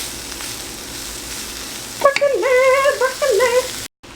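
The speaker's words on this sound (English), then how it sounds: "So just kind of stirring these babies frequently with all the sauce and the broccoli" Tofu and broccoli fry in sesame oil and soy sauce with a steady close sizzle, then stirring adds a short burst of squeaky scraping in the pan near the end.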